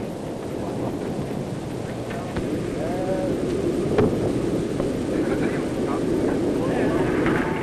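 Waves of bomber aircraft drone overhead above Cassino, a loud sustained engine rumble that swells slightly as it goes on, with a narrator's voice running underneath.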